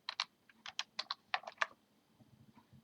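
Quick bursts of keystrokes on a computer keyboard as numbers are entered, about a dozen close, crisp clicks in an irregular rhythm, then quieter taps trailing off.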